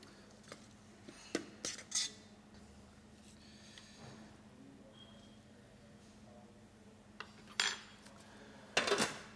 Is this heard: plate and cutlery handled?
yes